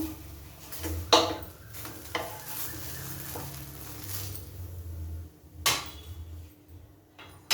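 Pesarattu, a moong dal dosa, sizzles steadily on a hot pan after being flipped, with a few sharp spatula scrapes and knocks against the pan.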